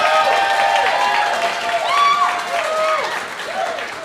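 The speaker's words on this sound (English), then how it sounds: "give us a cheer now" Studio audience at a Beat The Frog game show cheering and applauding a contestant, a steady loud crowd roar with a few voices rising and falling throughout.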